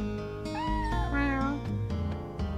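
A cat in a video game gives a couple of drawn-out, wavering meows over game music, close and clear.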